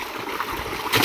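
Water gushing out of a swimming pool built in a farm field, a steady broadband rush and gurgle that swells louder near the end, with no talking.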